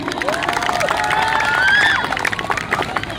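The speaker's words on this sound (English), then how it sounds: "A big round of applause for him one more time" Crowd cheering and clapping for a singer at a live gospel performance, a loud steady wash of applause with whoops and shouts rising above it.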